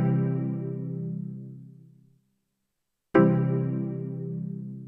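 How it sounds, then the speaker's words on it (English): A major triad on a software instrument in Tracktion Waveform rings out twice, each chord sustained and slowly decaying, the second struck again after a second of silence, clear and close with no voices. "So that's the sound of a major chord."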